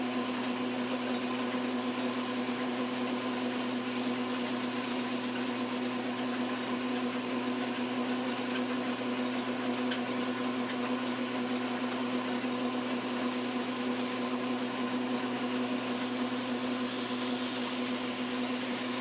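A 1947 Wards Logan lathe motor runs with a steady, even electric hum and drone, constant and moderately loud for the whole stretch, with no talk over it.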